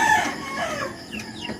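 A rooster crows once at close range, a loud drawn-out call with a rising then falling tone, followed by softer clucking and other chicken sounds in the background.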